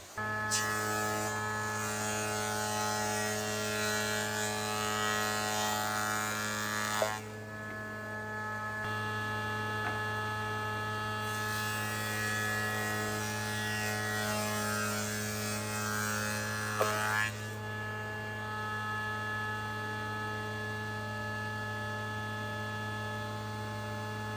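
A spindle moulder runs with a loud steady motor hum and high whine as wood is fed through, the cutting tone dropping twice for a few seconds as stock passes the cutter.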